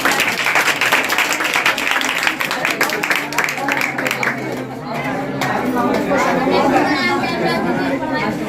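A crowd applauds at a general knowledge competition event, with a burst of clapping in the first half that gives way to a buzz of chatter and people talking.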